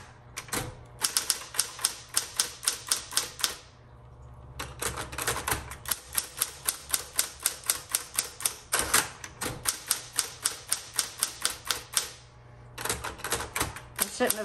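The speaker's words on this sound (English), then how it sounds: "I shouldn't have pulled the typewriter up so close to me" A repainted 1970s Electra 210 manual typewriter is typed on up close: rapid, even runs of sharp keystroke clacks, broken twice by the whir and clunk of the carriage being returned.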